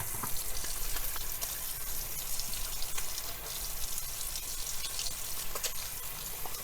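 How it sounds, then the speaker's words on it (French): Tap water runs steadily into a sink as hands are washed in a home kitchen before cooking, a continuous close splashing hiss with no voices. "c'est de laver les mains avant de faire notre petite préparation"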